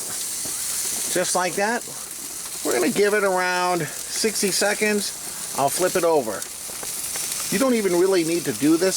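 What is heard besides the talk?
pork loin searing on hot gas grill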